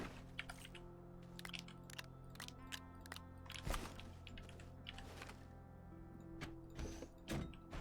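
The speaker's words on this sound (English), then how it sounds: "we want to kick off our printer." A printer machine in a video game starting up: a quiet run of clicking, tapping mechanical noises over a low steady hum, with a few sharper knocks and faint tonal beeps.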